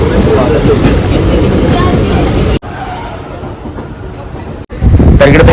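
A train rumbles steadily with a rattling, clattering roar, briefly cutting out twice, while voices talk over the noise.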